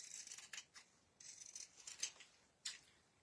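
Scissors snip through a paper leaf-shaped template for a DIY cowgirl hat, several close, light crisp cuts with short pauses between them, no speech.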